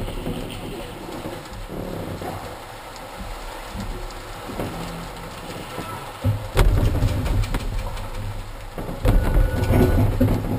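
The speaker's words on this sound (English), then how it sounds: "in a moment you actually hear the rain hitting the roof of the hangar." Heavy rain drums steadily on the roof of a glider hangar in the Swiss Alps during a thunderstorm, loud and continuous, with deeper rumbling bursts as the downpour grows stronger.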